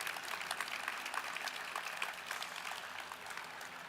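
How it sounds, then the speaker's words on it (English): Audience applause at a government funding announcement with officials on stage, steady dense clapping throughout, fairly distant and even, with no talk over it. "Please give him one more round of applause."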